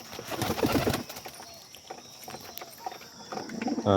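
Lahori and Sirazi pigeons coo in short, throaty bursts, strongest at the start and again near the end, with quieter fluttering and shuffling between.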